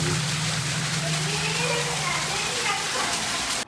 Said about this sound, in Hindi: सीढ़ियाँ देखें कैसी आबशार बन गई है।